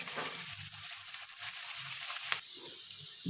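Rice with carrots frying in a pan for a chicken kofta pulao, a soft continuous sizzle with faint scraping and stirring pulses, heard close and alone at low volume.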